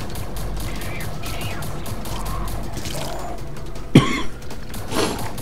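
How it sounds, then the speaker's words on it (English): A person gives a single sharp, close cough with a short rough tail, over a steady background of game noise. "sorry about all the coughing."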